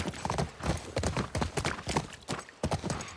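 A horse's hooves clip-clop in The Last of Us Part II, a steady, fairly close rhythm of distinct hoof strikes at a walking pace with no talk over them.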